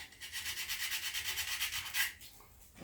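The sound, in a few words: sanding a wooden air rifle stock with sandpaper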